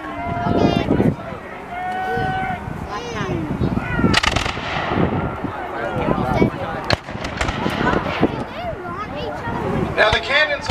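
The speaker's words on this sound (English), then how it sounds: "I will not be warning you when the cannon is going off" Battle of Stoney Creek re-enactment with light field artillery and gunfire, sharp bangs and bursts scattered throughout amid a busy mix of shouting voices and people talking.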